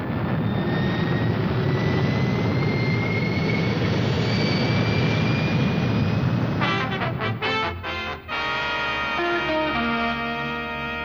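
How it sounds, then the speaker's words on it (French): Rocket engines fire with a loud, continuous roaring rush that holds steady for several seconds, then breaks into a pulsing, stuttering drone with tonal whines layered over it, with no talking. "Mettez à feu les réacteurs."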